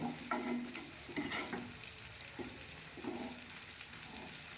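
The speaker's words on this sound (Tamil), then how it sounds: "ஒரு அஞ்சு நிமிஷம் அப்படியே ஃப்ரை ஆகட்டும் கத்திரிக்காய் ஃப்ரை ரெடி ஆகிடுது" Brinjal (eggplant) shallow frying in a pan on low heat, a soft, fairly faint sizzle with a few stirring scrapes and light taps over several seconds, no talking.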